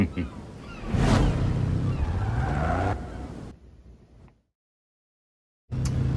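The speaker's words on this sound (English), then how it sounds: "Interesting how this car would sound like in this game" A Cadillac race car engine in the video game Forza Horizon 5 revs and climbs in pitch, roaring steadily, then fades to total silence before the engine noise abruptly returns.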